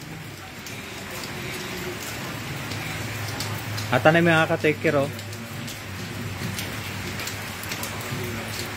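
Heavy rain pours steadily onto a surface in Pangasinan, a continuous close hiss and patter lasting throughout, while someone speaks briefly over it in the middle.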